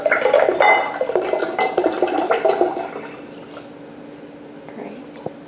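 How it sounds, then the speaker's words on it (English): Lemon juice, about 1.25 cups squeezed from seven lemons, is poured into cooled sugar syrup for lemon lavender sorbet, giving a close, bubbling, gurgling pour that tapers off after a few seconds, with a clink near the end. "we're now ready to add the lemon juice"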